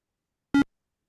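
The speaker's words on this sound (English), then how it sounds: "And there's little beep sounds and stuff like that too." A single short electronic beep from a CoCo computer game, one brief clean tone standing alone in silence.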